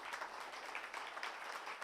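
Audience applause in a church gathering, a steady dense patter of many hands clapping throughout, fairly faint and continuous with no talk.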